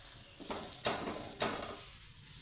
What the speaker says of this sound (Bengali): এইভাবে একটু চেপে চেপে ভাজবো